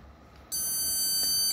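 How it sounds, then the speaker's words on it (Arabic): A RAM memory test program sounds its error alarm: a steady, loud electronic beep that switches on abruptly and holds unbroken for about a second, with no talking. "هذا هو صوت الالارم او صوت الانذار"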